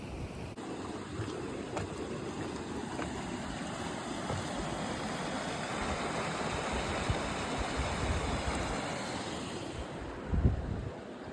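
Roughlock Falls on Spearfish Creek pours steadily, a dense continuous roar of falling water heard up close and alone, with one brief louder splash or thump near the end.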